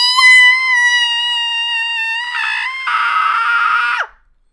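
A voice imitates a terrified scream, one long high sustained shriek that rises in harshness before cutting off abruptly, loud and close with silence afterward.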